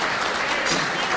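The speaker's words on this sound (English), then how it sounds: "So big round of applause for Dustin." Applause from the crowd at a high school hall of fame induction banquet, a steady dense clapping that fills the room without a break.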